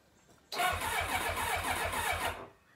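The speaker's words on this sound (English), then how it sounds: "Okay, so it cranks over." A 1990 Kawasaki ZX-7 motorcycle engine cranks over on the starter after a quiet start, producing a steady, loud, rhythmic whirring churn for about two seconds before stopping, with no talk over it.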